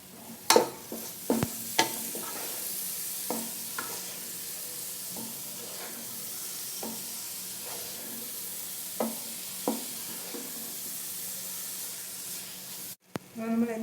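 Chana dal laddu mixture with ghee is stirred in a pan over a flame. A spoon scrapes in repeated strokes over a faint, steady sizzle, close and fairly quiet, with no one talking.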